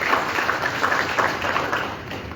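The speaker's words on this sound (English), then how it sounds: "s'il vous plaît, veuillez applaudir" Audience applause in a large hall at a Pan-African culture congress, dense steady clapping from many hands lasting throughout, fairly loud and unbroken.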